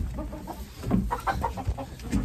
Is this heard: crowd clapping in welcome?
no